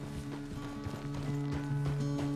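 Horse hooves clip-clopping at a steady walking pace in Red Dead Redemption 2, close and fairly loud, with a low tonal hum running underneath throughout.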